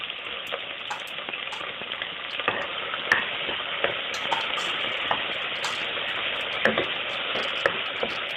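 Onions fry in hot oil for a South Indian beef curry. A constant close crackling sizzle is broken by frequent small pops and ticks, with occasional louder spatters. No one speaks.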